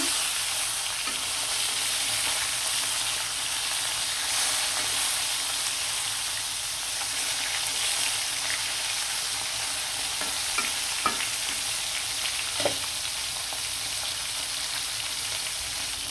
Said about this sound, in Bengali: মাছগুলো কিন্তু খুব সুন্দরভাবে ভাজা হয়ে যাচ্ছে